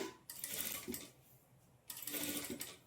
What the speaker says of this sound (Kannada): ನಿಧಾನಕ್ಕೆ ಸ್ಟಿಚ್ ಮಾಡ್ಕೊಳ್ಳಿ ಬಿಗಿನರ್ಸ್ ಆದರೆ.